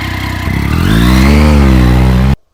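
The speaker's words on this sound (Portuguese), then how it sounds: "Os motores mais famosos tricilíndricos são os da Triumph, portanto têm uma sonoridade muito sibilina" A Triumph three-cylinder motorcycle engine revs up from a lumpy idle into a rising, smooth, slightly whistling drone, held loud and close before cutting off abruptly.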